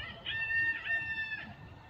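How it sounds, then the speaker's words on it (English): A rooster crows once on a homestead, a bright drawn-out call heard at moderate distance over a low ambient hum. "The roosters are just going off right now."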